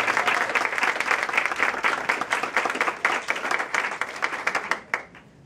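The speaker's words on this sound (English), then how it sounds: "Let's give Andy a round of applause." During a public lecture on ants and rainforest life, an audience applauds with a full, dense burst of clapping that holds strong for about five seconds before cutting off abruptly.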